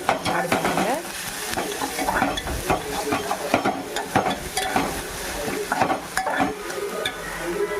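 Ginger garlic paste fries in hot oil in a pan for chicken fry piece biryani, with a steady close sizzle and repeated scraping clinks of a spoon stirring throughout, no talking.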